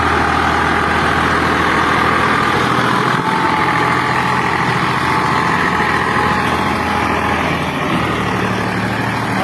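A loud, steady engine drone runs throughout, a tractor idling and chugging close by with no voices.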